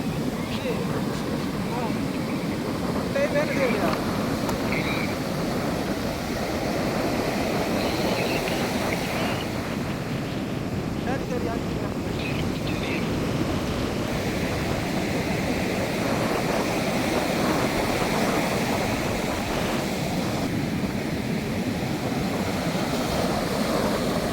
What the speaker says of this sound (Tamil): இந்த அலைய பாருங்க அப்படி அடிக்குது.